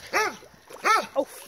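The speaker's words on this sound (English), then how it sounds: "Why are you barking?" A dog lets out two quick, close barks, then a shorter yip, each with a rising-and-falling tone, while digging in swampy mud outdoors.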